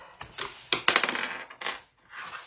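A coin scratching off a scratch-off box on a paper budget sheet, a few short rasping scrapes and clicks close up, with no voices.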